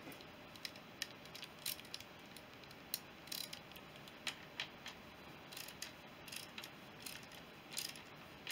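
Bolt being tightened on a Honda CB350 motorcycle while setting its points ignition, with faint ratchet clicks and small metallic ticks in an irregular sequence over a quiet background hiss.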